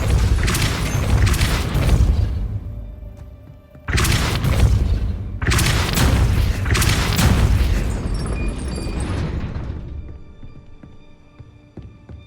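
Spell blasts from Depulso being cast in Hogwarts Legacy on Xbox Series X: loud, heavy booming thumps in several bursts with a sharp cutoff in the middle, fading into a quieter rumbling tail.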